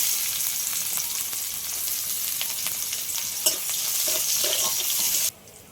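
Dried red chilies, panch phoron and chopped onion frying in oil, a bright continuous sizzle with occasional spatula taps and stirs, cutting off abruptly near the end.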